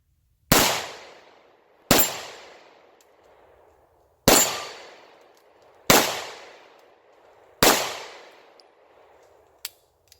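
Five sharp, loud pistol shots from a Bond Arms Bullpup firing hot Corbon ammunition outdoors at a range, each cracking and then ringing out into a short decaying echo, spaced one to two seconds apart, followed by a small metallic click.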